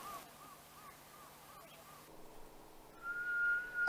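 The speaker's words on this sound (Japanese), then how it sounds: "口笛を吹いてトンビを呼ぶ" A person whistles a few short, repeated notes to call black kites, then holds one long steady whistle near the end, faint against a quiet outdoor background at Tappi on the Tsugaru Strait, Japan.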